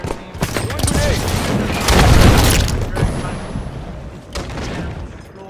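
A grenade detonates during a Halo 5 Slayer match, a loud booming blast amid continuous gunfire and battle noise, with voices talking over the chaos.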